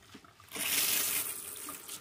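Tap water running while hair is being washed, starting abruptly after a quiet moment and continuing as a steady close splashing rush that eases slightly toward the end.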